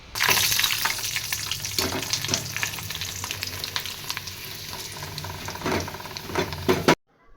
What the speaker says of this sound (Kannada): ಸ್ವಲ್ಪ ಹಪ್ಪಳ ಮತ್ತು ಶಾಂಡಿಗೆ ಕರಿಬೇಕಂತ ಹೇಳಿ ಎಣ್ಣೆ ಕಾಯಕಿಟ್ಟಿಟ್ರಿ